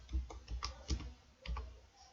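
A computer keyboard is typed on in a quick, uneven run of soft keystrokes, close by and fairly quiet, with no talking.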